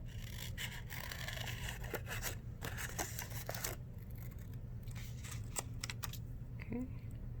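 Scissors snip out a paper eye for a circus collage, a series of close, quiet crisp cuts and rustles of paper, some in quick runs, with a soft background hum.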